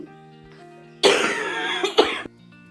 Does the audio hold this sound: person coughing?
yes